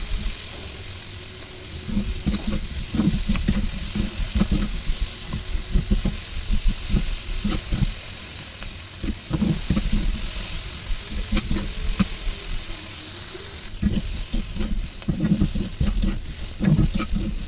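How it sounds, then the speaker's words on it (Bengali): Boiled flat beans tossed into a hot pan, a close frying sizzle broken by rhythmic stirring and scraping strokes that come in bursts throughout, with no talking. "দিয়ে দেবে সিদ্ধ করে রাখা সিমগুলোকে"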